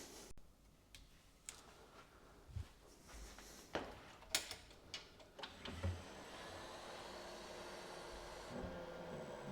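A faulty Porsche adaptive rear spoiler under repair, with its motor run at about 6 amps to raise it. Faint mechanical ticks and clicks lead into a quiet, steady motor whir that carries on to the end.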